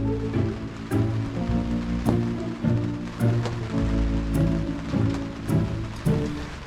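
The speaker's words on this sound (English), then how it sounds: "it is raining an awful lot at the moment" Steady rain falls outdoors at a narrowboat mooring in Banbury, a dense continuous patter with occasional heavier drops and gusts of wind, fairly close and loud, with no one speaking.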